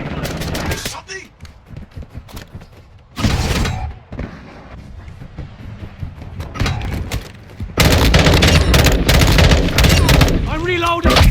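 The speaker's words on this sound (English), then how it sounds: "I'm taking enemy fire!" Gunfire from an M16 assault rifle in the video game Call of Duty: Modern Warfare 2, with loud rapid bursts and heavy continuous firing near the end, mixed with shouted voices and combat noise.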